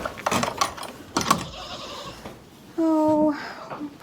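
Goats bleat in a cold-weather pen, one clear, loud, drawn-out bleat near the end after scattered rustling and clatter.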